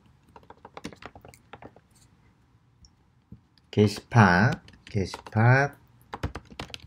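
Computer keyboard typing, a string of light clicks through the first few seconds before a voice speaks over the last part.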